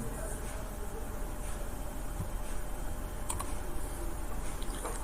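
Steady typing on a computer keyboard during a Microsoft Word lesson, a continuous stream of light, close key clicks with a few sharper taps standing out, no voices.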